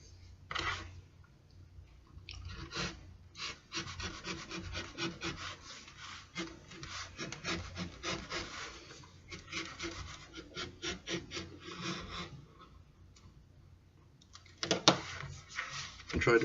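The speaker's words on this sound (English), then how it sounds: "Now it's time to bevel the edges." An edge beveler shaving along the edge of a leather holster, repeated close scraping strokes in a steady rhythm with a few louder passes toward the end, no speech.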